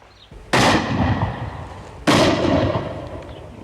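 Two loud shotgun blasts boom out at a pheasant shoot, a second or so apart, each with a sharp crack and a long rolling echo outdoors.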